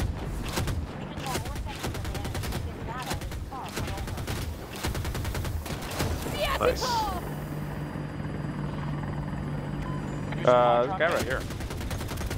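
Rapid machine-gun fire from an attack helicopter in the video game Battlefield 2042 rattles in dense repeated bursts over a steady rotor drone, with a player's voice speaking briefly amid the loud, continuous combat noise.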